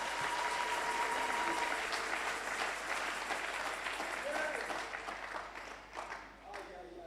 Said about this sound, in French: On acclame Dieu.